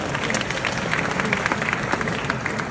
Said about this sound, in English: Please let us applaud her.